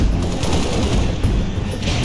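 Dense, continuous gunfire from a Halo Reach battle, a steady loud wash of rapid shots and booms with no break.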